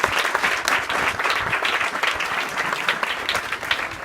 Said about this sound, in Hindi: आप स्वयं ताली मार के कार्यशाला की शुरुआत करें